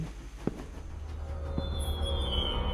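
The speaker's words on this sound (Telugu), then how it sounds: "ఏ ట్రైన్ గైస్ ట్రైన్ పోతుంది" A train in the horror video game Evil Inside rumbles past at moderate volume, with a continuous low roll and a high, thin wheel squeal building toward the end.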